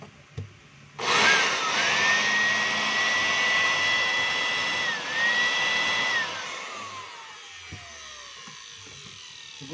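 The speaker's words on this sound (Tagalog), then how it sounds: "Ang model nito mga kabay, DWB 6800 blower ng DeWalt. Ayan. So isasaksak natin mga kabay." A DeWalt DWB6800 electric blower, reported to be sparking heavily, whirs to life after being plugged in, its loud motor whine holding steady, dipping briefly, then winding down to a fading drone.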